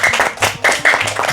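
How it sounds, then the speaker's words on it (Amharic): A small group of children clapping at a modelling walk contest game, a short burst of close, uneven hand claps with a voice mixed in. "ጨዋታውን አጨብጭቡ እስቲ ከወደዳችሁ"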